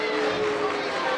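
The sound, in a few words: crowd booing at a high school basketball game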